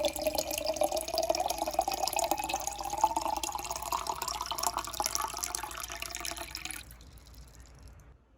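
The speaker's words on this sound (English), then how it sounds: "I'm going to fill these up with water out of my Berkey" Filtered water from a Berkey countertop filter runs in a steady stream into glass canning jars, a continuous trickling pour that holds for about seven seconds before stopping abruptly, leaving a faint quiet tail.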